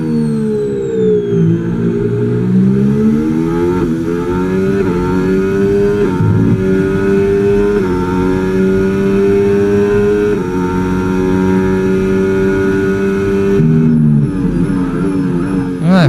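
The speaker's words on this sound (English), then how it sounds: "Wow, the engine sound, the downshifts, love it, the sound." Formula 1 car engine in the F1 25 racing game, a Williams FW47 on track, screaming loud and continuous with rising revs and abrupt drops at downshifts, heard alone without talk.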